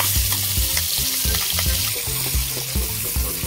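A paste of ground peas and green chilies sizzles and fries in hot oil in a kadai. The crackling is loud and continuous, and repeated scraping stirs break through it at a regular rhythm. No one speaks.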